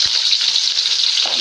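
Green chillies and curry leaves hit hot oil in a pan, giving a loud, steady, close-up hiss of sizzling that holds evenly throughout with no talking.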